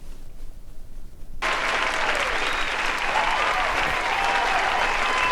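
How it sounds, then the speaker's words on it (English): A live studio audience bursts into sustained clapping after a brief quiet lead-in, the applause dense, steady and close, filling the room evenly until the end. "Let's one more clap"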